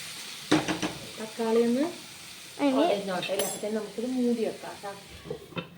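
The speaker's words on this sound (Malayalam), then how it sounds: "നമ്മൾ ഇടയ്ക്ക് നെയ്ച്ചോറ് നന്നായി ഇളക്കുന്നുണ്ട് കേട്ടോ" Ghee rice with tomato is stirred in a pan, with soft scraping and a faint sizzle running under a person talking over most of it.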